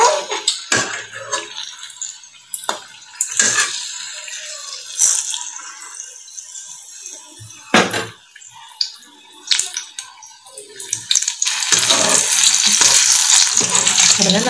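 Food puffing up as it fries in hot oil, a loud, dense crackle and sizzle that runs throughout, broken by sharp clinks and scrapes and swelling to a steady roar near the end.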